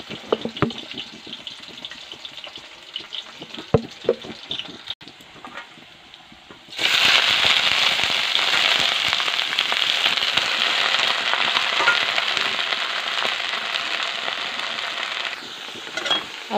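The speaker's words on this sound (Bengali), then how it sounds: "আলুটা ভেজে নিচ্ছি, আর এখানেও কড়াটা গরম হয়ে গেছে," Potatoes fry in hot oil in a kadai. Light crackles and pops come first, then a loud, steady, close sizzling hiss that continues to the end.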